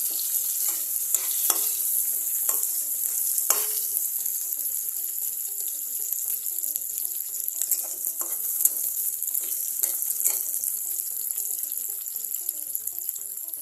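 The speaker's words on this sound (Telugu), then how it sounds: "అలాగే జీడిపప్పు వేసి ఫ్రై చేసుకోవాలి." Cashews frying in hot oil for idly upma, a continuous bright sizzle with bursts of crackling and occasional stirring scrapes, close and fairly loud throughout.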